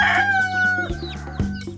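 A rooster crows loudly and close among a flock of local chickens on a small farm, with clucking throughout and no talk.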